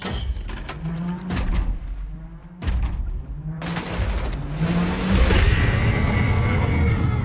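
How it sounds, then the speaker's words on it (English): Explosions and rapid gunfire in Wolfenstein: The New Order crackle in quick succession, ending in a heavy booming blast with a lingering roar, loud and close. "Yes! Big explosion!"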